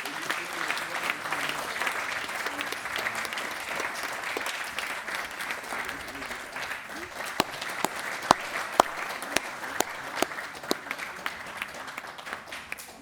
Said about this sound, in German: Und dann schenkt nochmal einen großen Applaus.